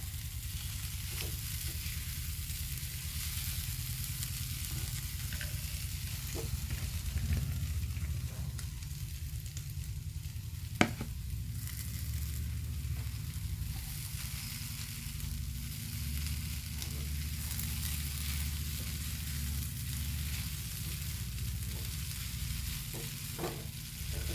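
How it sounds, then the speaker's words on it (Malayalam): Chopped chapati pieces for kothu chapati sizzle and fry steadily in a pan, with soft scrapes and clinks of a spoon stirring them throughout, close and continuous with no talk. "ഒന്ന് സ്പൂൺ വെച്ചിട്ട് അങ്ങനെ ഇളക്കി കൊടുക്കാം കേട്ടോ"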